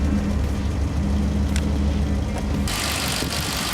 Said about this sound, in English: Now I start the engine and switch to LPG mode.